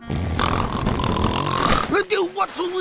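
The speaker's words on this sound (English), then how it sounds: "Just Grandpa Pig snoring." Grandpa Pig from the Peppa Pig cartoon snoring loudly, a long rasping snore with a rising whistle-like tone, followed by some short, lighter breathing snorts.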